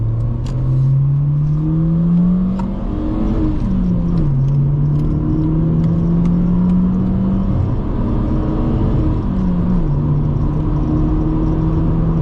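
Honda Civic EP2 pulling hard in first gear, the engine note climbing steadily, dipping briefly, then rising again with a continuous near, loud drone and road rumble throughout.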